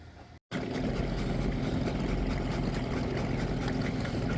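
A big boat motor roars close by at steady full power after a brief gap at the start, a dense, continuous engine drone mixed with water noise.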